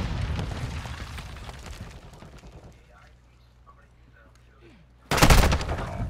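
Rapid gunfire from Call of Duty: Modern Warfare II, a loud burst of shots early that fades into quieter ambience, then a sharp, powerful blast of fire near the end, with voices around.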